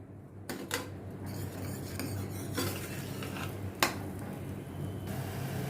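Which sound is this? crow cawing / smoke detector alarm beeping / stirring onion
stirring onion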